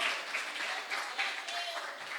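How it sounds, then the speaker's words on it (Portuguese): A church congregation applauds, a dense, steady patter of many hands clapping that carries evenly throughout at moderate, somewhat distant volume. "Você pode aplaudir"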